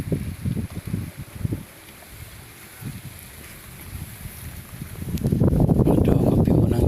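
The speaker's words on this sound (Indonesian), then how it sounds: "Anginnya kencang." Strong wind buffeting a microphone at a riverside fishing spot, low rumbling gusts in uneven pulses that ease off, then build into a sustained loud roar toward the end.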